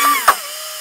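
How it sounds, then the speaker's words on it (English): A lathe spins a safety razor handle at about 2000 RPM for sanding, giving a steady tonal motor whine broken by one brief sharp click. "Now I'll start the sanding process, and I go from about a 150 grit down to a 600."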